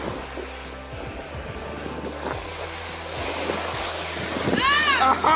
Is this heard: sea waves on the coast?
yes